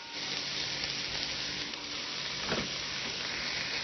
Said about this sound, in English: we're going to saute those until transparent